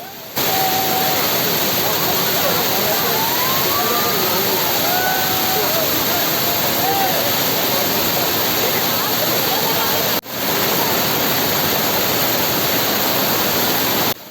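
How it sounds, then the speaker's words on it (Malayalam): A loud, steady roar of Kanjirakolli waterfall in Kannur, constant rushing water filling the whole clip, with a brief dip near the end. "ഇനി നമുക്ക് ഇവിടുത്തെ വെള്ളച്ചാട്ടത്തിൻ്റെ കാഴ്ചകളൊക്കെ ഒന്ന് കാണാം"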